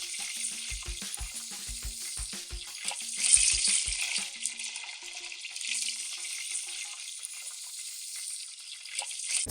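Oysters deep frying in hot oil, a steady close sizzle and crackle throughout, with a few soft thumps and clinks of utensils in the first few seconds and no talking.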